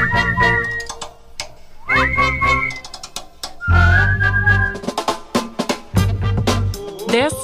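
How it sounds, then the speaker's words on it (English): Several people whistle a tune together, loud and close, in rising and falling melodic phrases over a steady low musical backing, with a few short breaks between lines. "let's whistle it together."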